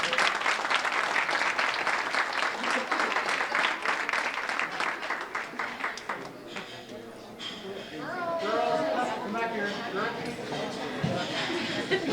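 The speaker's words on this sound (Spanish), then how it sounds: "Un aplauso, por favor." Steady applause from an audience greets an award-winning group at a ceremony, loud at first and then thinning out as people talk and cheer over the fading clapping.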